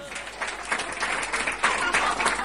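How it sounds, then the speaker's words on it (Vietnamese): Audience applause welcoming a singer onto the stage at a music club evening, moderately loud and steady throughout the short stretch, with dense scattered clapping from a crowd. "Một tràng vỗ tay thật lớn để chào đón ca sĩ Phạm Hồng Sơn."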